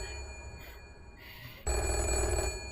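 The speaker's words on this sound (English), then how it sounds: "The phone is ringing" A telephone in a video game starts ringing partway through with a loud, sustained electronic trill that follows a quieter stretch of faint tones.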